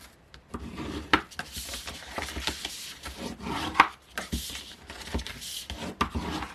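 Cutting the base of a paper lidded gift box along a rectangle and into squares: close, crisp, repeated scraping cuts and chops with sharper snaps, steady and uneven in rhythm, with no talking.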